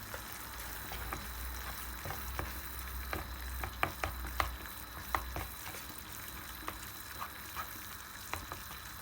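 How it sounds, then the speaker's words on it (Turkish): Kuymak of cornmeal and melting cheese stirred in a pan over raised heat: soft steady sizzle with a series of quiet scraping and clicking strokes from the spoon, irregular but frequent, close and fairly faint. "Sonra altını yükseltip iyice kıvam alana kadar karıştıracağız."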